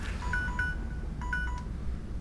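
A Mass Effect countdown timer chirps in short paired electronic beeps, two quick tones, a pause, then another pair, clear and steady over a low engine hum.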